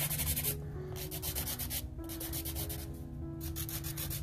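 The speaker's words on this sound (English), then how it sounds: "So I'm just filing." A nail file rubbed back and forth over polygel nails, close rasping strokes in a quick uneven rhythm with short pauses between passes, no voices.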